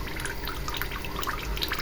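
Melted beeswax mixed with water trickles and drips from honeycomb during steam melting, a steady close liquid flow with scattered bright drips throughout.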